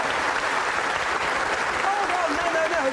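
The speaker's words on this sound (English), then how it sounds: "Think what you're applauding" A studio audience applauds in a steady, dense wash of clapping that fills the whole stretch, loud and close, with a faint voice rising briefly near the end.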